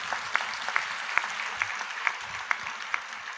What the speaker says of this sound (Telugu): చప్పట్లు కొట్టి దేవుని మహిమపరచు